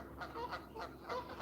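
A flock of ducks nearby gives a run of loud, repeated honking quacks in quick bursts, with the calls overlapping at a steady pace and no talking.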